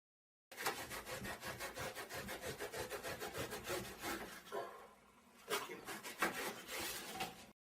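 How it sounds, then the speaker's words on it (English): A sharp knife sawing through upholstery foam for a chair reupholstery, with rapid, light rhythmic back-and-forth strokes close by, pausing briefly near the end before resuming, no talk. "With such light, gentle sawing movements, we carefully cut the foam."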